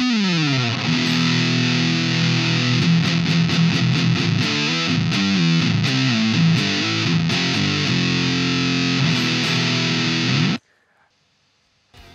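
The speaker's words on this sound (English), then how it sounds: "Let's turn off the Wah and turn on the distortion." Heavy distorted electric guitar, wah pedal off, playing doom-metal chords and riffs loudly for about ten seconds, then cutting off abruptly into near silence.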